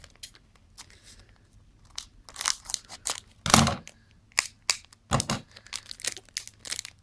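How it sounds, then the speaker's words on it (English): Scissors snip and crinkle through the foil wrapper of a Magic: the Gathering Dragons of Tarkir booster pack, close-up irregular crunchy cuts and rustles with quiet gaps between. "I'm opening this with scissors because this pack is surprisingly hard to open"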